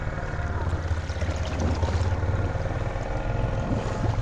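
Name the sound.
ATV crawling through flooded creek water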